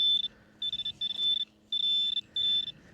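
A metal detector sweeping over a shallow target in a UK field gives repeated bright double beeps in quick pairs, loud and close, with brief quiet gaps between them.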